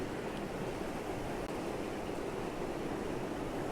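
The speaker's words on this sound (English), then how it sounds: "I have the water rushing through the foreground" Loud, steady rush of an intense waterfall pouring over rocks, heard close up as a dense, unbroken roar with no pauses or voices.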